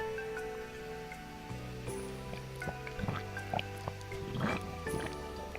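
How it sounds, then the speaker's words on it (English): Wet liquid sounds made close to a microphone: irregular drips, squishes and gurgles that grow busier toward the end, with no talking. "you guys get to hear me do some water ASMR"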